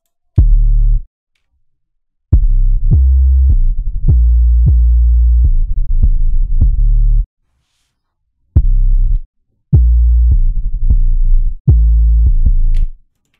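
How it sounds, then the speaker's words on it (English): Deep sub bass from a Serum synth holds long sustained notes in separate phrases, with short gaps of silence and a few quick pitch jumps, loud, low and humming. "It's a sub bass from Serum."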